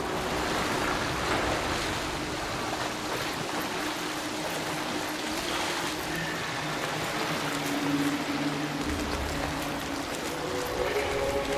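A waterfall in the video game Soulframe pours out a steady, broad rush of falling water that stays constant and fairly loud throughout, with no voices over it.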